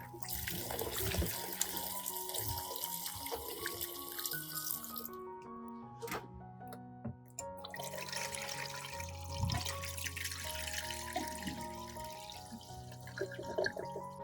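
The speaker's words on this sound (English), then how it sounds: "rinse thoroughly and let dry." Tap water runs steadily into a sink while shallots are rinsed, splashing and gurgling close by, briefly cut off midway before flowing again.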